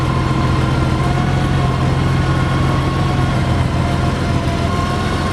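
A 2007 Honda Goldwing Champion trike with its stock exhaust idles steadily, a smooth continuous engine hum holding an even, unbroken rhythm at close range with no one speaking.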